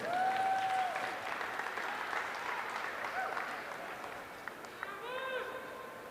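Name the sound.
audience applause at a county fair livestock show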